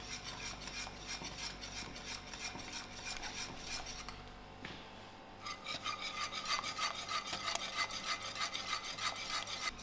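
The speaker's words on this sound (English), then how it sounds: "While my stove is on a low heat, I will keep whisking till this thicken up." A whisk scrapes steadily around a pot of milk tart custard filling thickening over low heat on the stove, making a continuous rasping metal rub that pauses briefly midway and then resumes.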